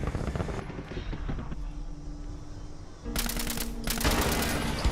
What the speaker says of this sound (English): if you shoot this rocket, it will actually launch